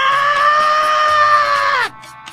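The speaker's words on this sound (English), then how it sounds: "now it just sounds like you're yelling at me" A character in a Zelda video game lets out a loud, sustained yell that holds steady for nearly two seconds and then drops off abruptly into quiet.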